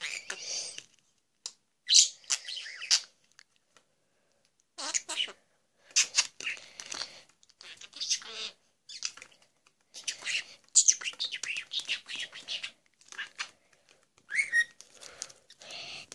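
A two-month-old pet bird chirps indoors in short, bright bursts separated by quiet gaps, loud and close, while someone speaks softly now and then.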